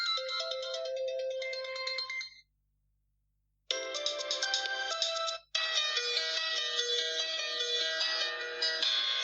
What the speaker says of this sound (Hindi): यहाँ पे कोई भी रिंगटोन्स हम चला लेते हैं।